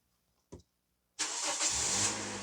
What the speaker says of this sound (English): So I'm going to start the engine now